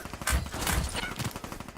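A short burst of gunshots in a rural country setting, several close thumps in quick succession, fairly loud against a noisy background.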